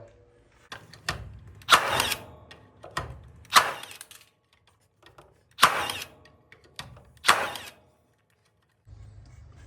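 An EMTOP cordless nail gun drives nails into curved steel 3.2 mm thick, giving four loud, sharp cracks spaced a couple of seconds apart, with fainter mechanical clicks between them.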